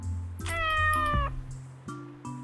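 A cat in the video game A Street Cat's Tale lets out a clear, drawn-out meow, followed by a couple of short softer mews over a low ambient game background, with no talking.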